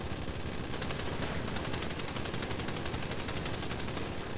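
Dense, sustained gunfire in a video game police standoff, rapid shots rolling together into a loud continuous barrage with no pauses throughout.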